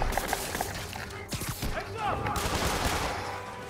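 Gunfire in a Spider-Man video game rattles out in bursts of close, loud shots mixed with thuds and shattering hits, with voices speaking over the action.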